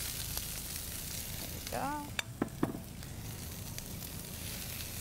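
Vegetables fry in a pan with a steady, close sizzle that runs the whole time, along with a few sharp utensil clinks and a short spoken phrase partway through.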